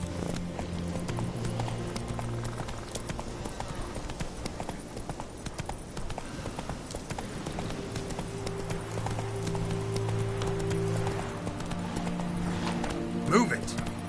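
Horse hooves galloping in The Witcher 3, a steady rhythmic clip-clop running throughout with a brief snort near the end, while voices talk over it.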